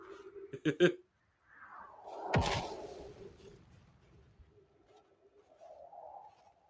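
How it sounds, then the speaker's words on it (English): A bird in the video game Outer Wilds gives soft cooing calls amid other game sounds, including a sharp thump, with low tones and a voice speaking at moments. "Bird."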